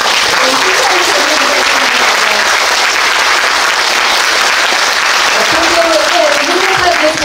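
A large lecture audience claps loudly and continuously, a thick wash of many hands with a few voices faintly rising underneath near the start and end.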